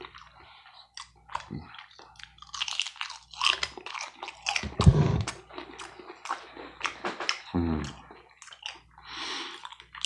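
Close, crunchy chewing of syrup-drizzled French toast sticks, with irregular bites and crisp crackles, wet mouth sounds and quiet pauses between chews, heard up close in a quiet room.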